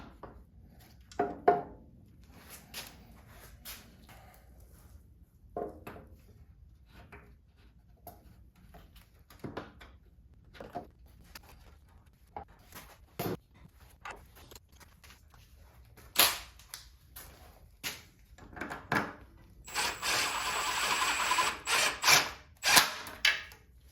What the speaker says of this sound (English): I'm gonna start by just getting this first bolt up here started